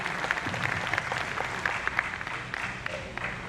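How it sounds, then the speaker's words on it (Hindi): An audience in a training-programme hall applauds, with dense steady clapping throughout and faint voices mixed in. "ताली हो जाए।"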